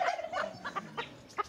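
Excited fowl calls on a farm where cotton bantam chickens are being bought and a rooster has become agitated; several short, rapid squawks and clucks come in quick bursts, fairly close, with almost no talk.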